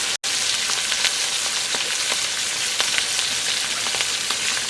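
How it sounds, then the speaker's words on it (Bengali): Pieces of hilsa fish fry in hot oil with a steady, dense sizzle and crackle that fills the whole stretch, loud and close, with no voices. "অপেক্ষা করবো অপর পিসটা লালচে গন্ধের ভাজা হওয়া পর্যন্ত"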